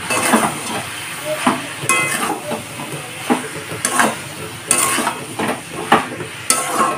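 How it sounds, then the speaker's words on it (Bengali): Boiled soybeans are stirred and fried in a spiced pan over a low flame. A constant close sizzle runs under repeated scraping and knocking of a spatula against the metal pan. "কষিয়ে নেওয়ার পর এখন সয়াবিনগুলোকে দিয়ে দেবো, বয়েল করা সয়াবিন"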